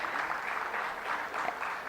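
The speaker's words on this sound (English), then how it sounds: "I request everyone to give a big round of applause for our panelists." An audience applauding panelists at a foundation day celebration, a short, fairly faint spell of steady, distant-sounding clapping.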